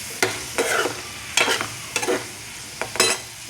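Cauliflower curry (gobi) being stirred in a pan, five or six distinct scraping strokes of a spoon against the pan over a low background sizzle, close and fairly loud.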